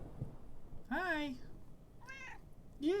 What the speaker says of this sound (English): Dude, I love this cat.